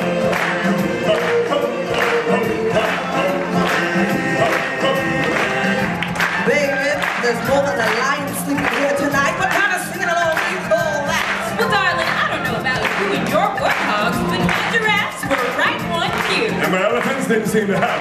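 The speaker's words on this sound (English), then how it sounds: "Come on, everybody. Clap hands." Audience at the Festival of the Lion King stage show at Animal Kingdom clapping along in a dense, steady wash of applause and crowd noise, with a voice talking over the clapping throughout.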